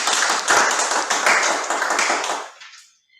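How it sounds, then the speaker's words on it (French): A meeting audience at a French-speaking club session claps together in a dense burst of applause that holds steady for over two seconds, then thins and fades out to silence. "Vos applaudissements."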